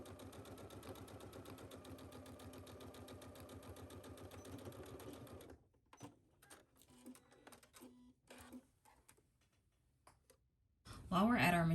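A sewing machine stitches fabric in a fast, steady mechanical rattle for about five seconds, then stops and gives way to scattered clicks and handling noises, with a loud burst at the end.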